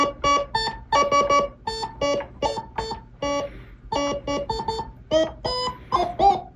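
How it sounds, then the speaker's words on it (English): Arturia MicroBrute analog synthesizer playing choppy, harsh buzzy notes in quick stuttering bursts with short gaps, bright and beep-like, fairly loud, with no talking. "we tested a MicroBrute analog synthesizer"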